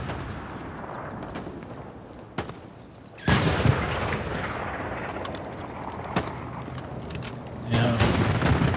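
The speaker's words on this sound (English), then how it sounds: "Ooh, there's tank fight over here" Tank battle with booming artillery fire in a war video game, sharp blasts and heavy rumbling bursts recurring over a continuous din of combat, loud and fairly close, with a voice faintly present.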